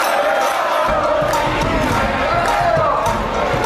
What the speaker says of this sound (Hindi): मथुरा में होली खेलने वालों की इतनी भीड़ है कि पैर रखने की जगह नहीं है